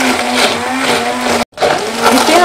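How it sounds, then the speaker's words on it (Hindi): A handheld blender whirs steadily and loudly while blending melon seed juice with lemon juice and cold water, with a brief cut-out partway through before the motor resumes. "अब हम हैंडी की सहायता से इसे ब्लेंड करेंगे।"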